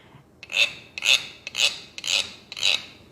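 A wooden scraper is rasped in five short, evenly spaced strokes, each a dry ratcheting scrape, close and moderately loud.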